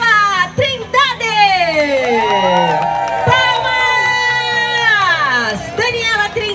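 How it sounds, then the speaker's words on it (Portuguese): Spectators at a running race podium in Holambra cheering and whooping with loud, rising shouts and yells as a women's 10K finisher is called up; applause is not clearly distinguishable under the voices. "Palmas!"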